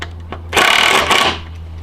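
A power driver tightens bolts on a wooden swing set, a single loud whirring burst of about a second over a low steady hum, rising sharply and then cutting off.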